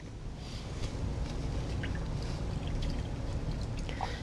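Orange juice, a quarter cup measured at eye level, pours steadily into a bread batter of vegetable oil for pumpkin chocolate chip bread, a continuous close liquid stream lasting several seconds with no talking.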